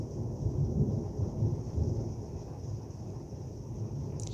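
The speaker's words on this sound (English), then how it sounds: "Storm's getting closer." A thunderstorm with a steady wash of heavy rain and deep, continuous rumbling thunder close by, loud and unbroken throughout with no voices.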